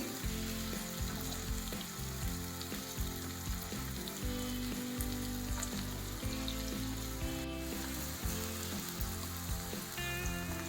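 Chopped onions fry with a pinch of salt in a pan for a drumstick and boondi masala curry, giving a steady, close sizzle with soft crackles throughout and no voices.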